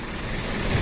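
An articulated tractor unit accelerates sharply while tugging against its coupled trailer, a brief, steady, close diesel roar with low rumble building toward the end.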